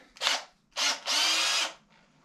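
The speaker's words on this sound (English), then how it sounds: "I'll drill a hole in the bottom" A power drill whirs in three bursts, a short one, then a brief one and a longer steady run, while drilling a hole in the bottom of something at a log cabin, close and fairly loud.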